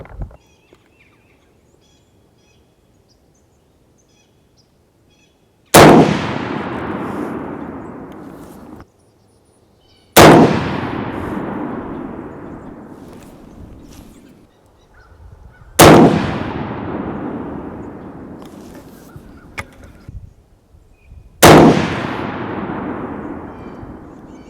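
Four loud rifle shots from a Ruger No. 1 in .303 ring out several seconds apart at an outdoor range, each a sharp crack followed by a long rolling echo that slowly fades.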